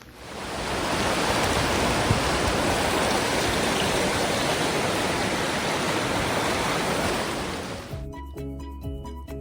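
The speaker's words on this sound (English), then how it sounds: "more rain" Rain pours outdoors in the northern New England forest, a dense, continuous hiss that fills everything for about eight seconds, then cuts off abruptly into quieter tones.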